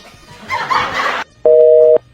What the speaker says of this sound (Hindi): अरे फोन काट दिया, जवाब भी नहीं दिया